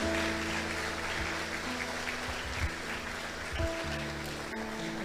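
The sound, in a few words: congregation applause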